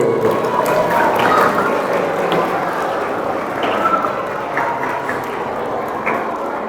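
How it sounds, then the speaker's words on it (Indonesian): Applause from an audience of schoolchildren and staff at an Islamic elementary school's Maulid Nabi celebration, a dense, steady clatter of many hands clapping continuously at close range with no talk over it. "tepuk tangan lagi"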